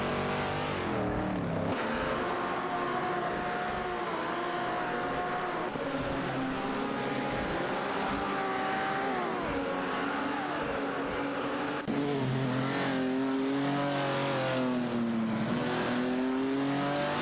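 Race cars, including a Dodge Demon 340/71, accelerating during a video game race, their engines revving and sweeping up and down in pitch for a long stretch, with several cars overlapping in a steady, moderately loud roar.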